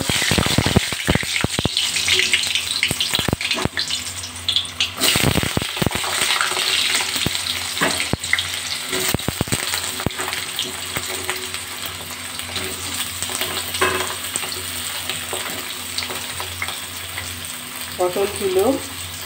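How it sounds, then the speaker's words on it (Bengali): Pointed gourd sizzles and crackles loudly in hot oil with a pinch of salt and turmeric, with the clatter of stirring in scattered bursts; no voices. "1 চিমটে নুন হলুদ দিয়ে পটলগুলো একটু ভাজা ভাজা করে তুলে নেব।"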